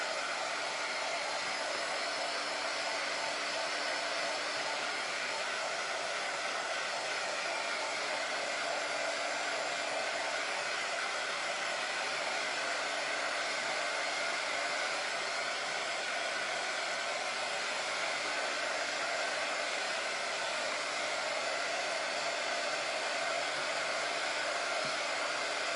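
A hair dryer runs steadily on a craft item, its loud, even airflow roar continuing without a break and with no talk over it.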